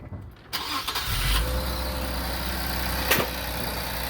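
An Infiniti Q60 fitted with HKS SSQV blow-off valves cranks and fires up, then settles into a steady, close idle with a low engine drone and a brief extra burst partway through.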